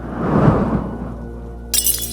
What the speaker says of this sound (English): a sudden noise of something shattering